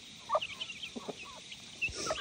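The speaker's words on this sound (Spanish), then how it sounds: "Y ahí están todas nuestras gallinas." Chickens cluck and murmur softly nearby with scattered short calls, a quiet farmyard scene with no voices.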